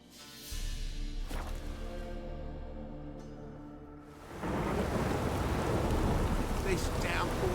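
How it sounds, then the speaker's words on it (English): Heavy rain downpour in The Witcher 3 on PC, starting as a low rumbling ambience and then swelling into a loud, steady wash of rain that holds for the rest of the stretch. "This downpour's a bastard, it is."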